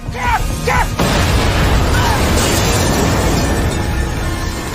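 A loud boom bursts out and rolls into a long, noisy rumble that slowly fades, following a brief burst of voices at the start.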